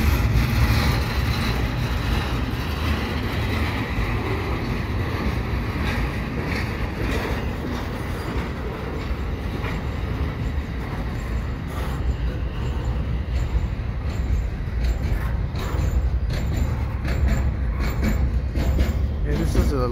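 A long CPKC eastbound intermodal freight train rolls past at Dorval in the evening, loud steady rumble with rhythmic wheel clatter and faint squeal throughout, nearby voices occasionally audible.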